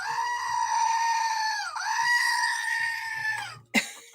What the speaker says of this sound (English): Have you missed the goat?